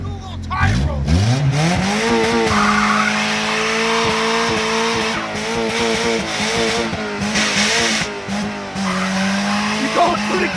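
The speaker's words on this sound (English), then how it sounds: "Do a little tire roll." A Honda Civic rolls on its tires after a 5th-gear clutch dump, its engine droning loudly with rising and falling revs and a squealing tire tone. Voices are heard over the engine.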